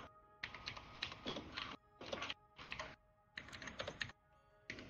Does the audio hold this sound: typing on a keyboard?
yes